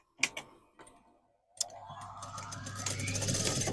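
A sewing machine backtacks elastic onto a denim jacket, starting with a few sharp clicks and taps, a short pause, then a motor whirring up and building into rapid, steady stitching close by.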